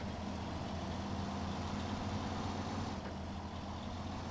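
The engine of a Tatra truck in a video game rumbles in a steady, low, close idle that stays even in level for the whole stretch. No voices are heard.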